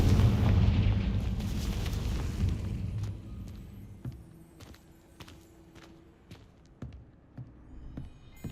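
A Confringo blasting spell in Hogwarts Legacy goes off as a loud, rumbling explosion that decays over a few seconds, followed by scattered sharp impacts and thuds at a lower level.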